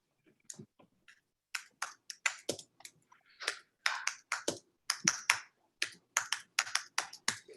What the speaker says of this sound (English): I hear typing, which is a good sign.